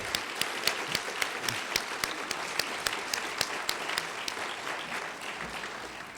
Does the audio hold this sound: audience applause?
yes